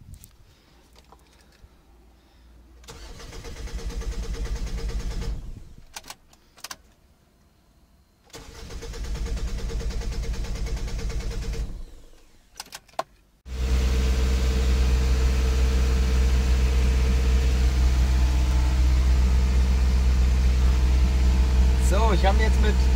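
An off-road vehicle's engine, just repaired, cranks in two bursts separated by silence, then catches on the third try and settles into a steady, loud idle close by.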